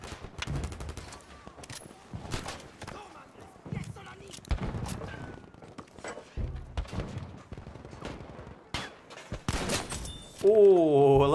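Gunfire in a shooter video game: rapid bursts and single sharp shots with thuds, loud and close, under excited talk.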